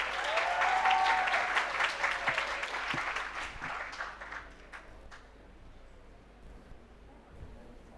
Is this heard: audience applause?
yes